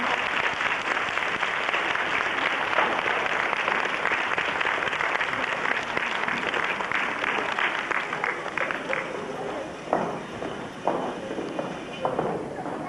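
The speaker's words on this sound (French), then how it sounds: "on les applaudit très fort" Loud audience applause at a staged revolution show, dense sustained clapping that thins toward the end, with voices mixed in.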